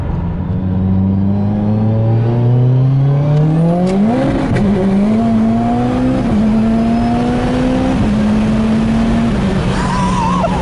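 A hard-driven Mitsubishi Evo 10 street car screams loudly through rising revs, dips sharply with a gear change, then climbs again in a sustained, aggressive engine howl close by.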